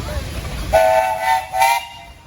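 A steam traction engine at a steam and threshing show in Sycamore, Illinois, gives two short whistle blasts, bright tonal toots separated by a brief pause over outdoor background noise.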